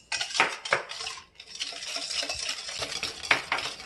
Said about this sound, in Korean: 소금 두 꼬집 넣고 더 저어줍니다.